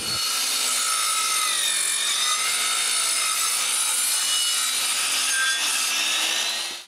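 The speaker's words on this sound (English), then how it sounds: "The circular saw can't cut all of it, so I need to finish the job differently." A circular saw cuts wood for a cottage woodshed, a loud continuous whining rasp held steadily for about seven seconds before stopping, with no talk.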